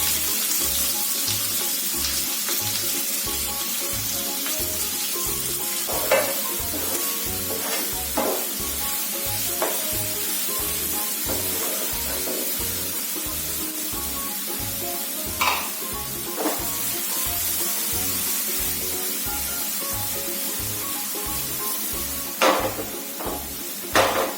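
Sliced onion frying in hot oil with bay leaf, cardamom and cinnamon sticks in a pan for chicken masala, giving a steady close sizzle with a pulsing low hum and occasional clicks of stirring, no voices.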